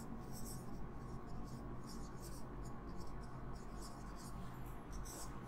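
Pen or marker scratching across a page while a definition is written out, a steady run of quiet strokes and scribbles with no voice over it.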